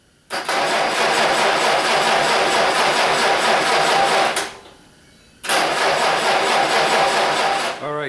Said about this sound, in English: I was just cranking the tractor over without the ignition on